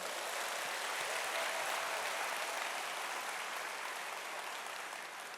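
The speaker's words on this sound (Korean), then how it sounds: "뜨거운 감사의 박수" Sustained, dense audience applause at a seminar hall event, steady and loud throughout with no talking over it, tapering very slightly toward the end.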